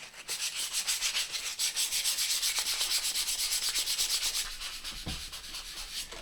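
Sandpaper worked over the lacquer finish of a guitar, a close, loud, rhythmic back-and-forth scratching in quick even strokes that runs continuously with no voices.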